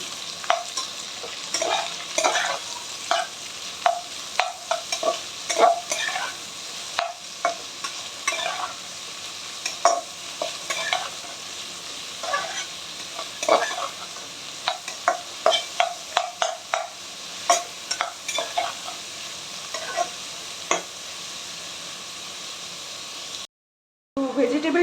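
Vegetables and onion stir-fry for chicken fried rice, a continuous close sizzle punctuated by frequent sharp scrapes and clanks of a spatula against the pan, running steadily until a brief cut near the end.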